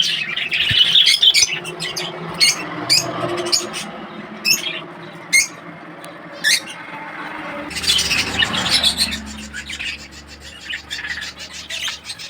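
Pet birds in a cage let out a series of sharp squawks and chirps, spaced irregularly at first and then running together into busier chatter, with no one speaking.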